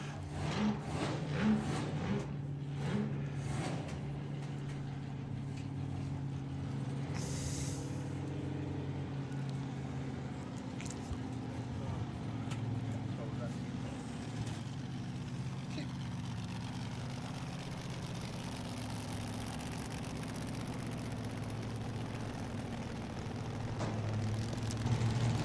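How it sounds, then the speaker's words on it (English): Supercharged LS-engined slingshot dragster at a nostalgia drag racing event, a steady distant engine rumble under a commentator's voice. "Supercharged LS in the slingshot."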